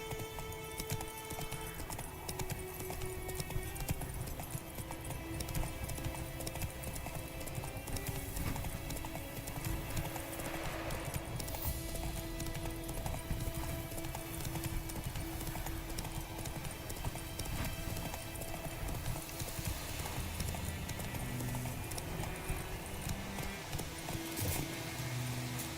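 Horse hooves clip-clopping in a steady gallop through The Witcher 3 Wild Hunt, a constant fast rhythmic pounding over game ambience with an occasional snort or whinny, close and loud throughout.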